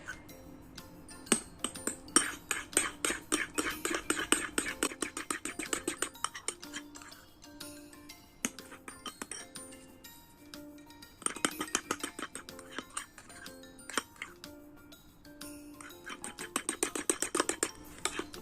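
Fluffy slime made without glue or borax is stirred in a bowl, giving a long run of fast, close clinking and sticky clicking scrapes that come in bursts with brief pauses between them.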